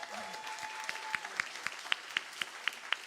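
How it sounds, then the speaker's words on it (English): Audience applause for a band at a live show, with a steady wash of clapping and a growing run of sharp, rhythmic claps landing about every quarter second, while a faint tone briefly sits underneath. "everybody. Clap it up."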